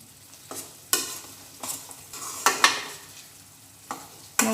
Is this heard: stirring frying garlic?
yes